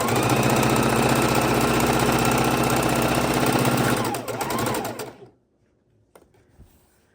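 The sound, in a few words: sewing machine sewing fabric scraps together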